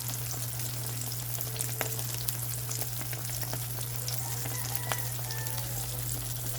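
Tiny shrimp omelette, torta ng alamang, fries in a pan with a steady, crackling sizzle, occasional faint pops and light clicks over a constant low hum.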